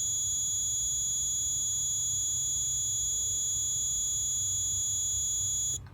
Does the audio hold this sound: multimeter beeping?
yes